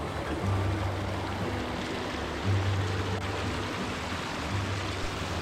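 Rushing water from Kings Canyon Waterfall and its stream on a winter hike in Washoe Valley, Nevada, a steady broadband roar heard close and continuously, with low rumbling surges now and then.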